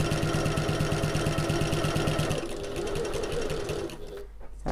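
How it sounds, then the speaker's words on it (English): Sewing machine running steadily along the edge of a backpack, a close, continuous rhythmic whirr that softens slightly midway and cuts off near the end. "you can back stitch at the start if you want to"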